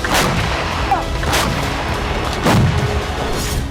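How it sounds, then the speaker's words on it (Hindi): MLRS rocket artillery firing in eastern Ukraine: a dense, loud roar of continuous launches and blasts with repeated booming bursts, close and overwhelming throughout. "MLRS की बारूदी गर्जना"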